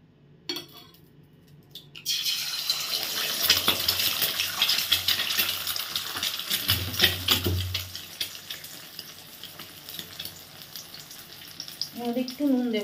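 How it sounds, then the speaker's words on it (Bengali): An egg fries in hot oil in a pan for chowmein, a steady close sizzle that starts abruptly after a quiet moment, with occasional utensil scrapes and clinks against the pan. "এতে আমি ডিমটা ভেজে নেব, তেল গরম হোক তারপর ডিমটা ভেজে নেব।"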